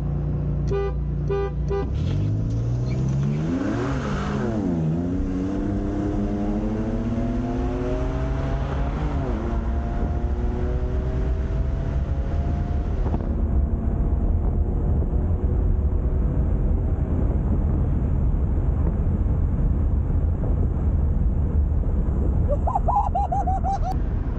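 A BMW with the N54 engine launches hard with traction control off, its exhaust note climbing through rising harmonics as the tyres spin. A loud, sustained engine drone follows through the gears, with a brief horn-like toot near the end.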